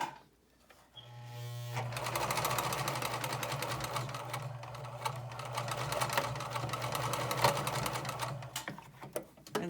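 A sewing machine runs steadily while stitching a fabric bag casing, a close continuous whirring hum with a dense mechanical needle rhythm that starts after a brief pause and carries on alone to the end.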